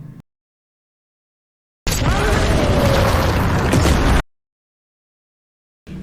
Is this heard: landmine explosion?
yes